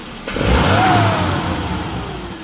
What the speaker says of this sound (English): this is what snap throttle looks like